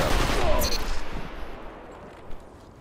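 Grenade blasts in the video game Destiny 2 Beyond Light, two thrown into an enemy: loud booming bursts with a rumbling tail that fades over a couple of seconds, followed by a smaller pop.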